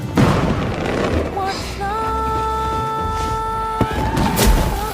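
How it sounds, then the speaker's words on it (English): Fireworks go off during a film scene set in Malta, a dense, continuous crackle and rumble with rising whistling tones, steady and loud throughout. "hearing fireworks at the most inappropriate of times"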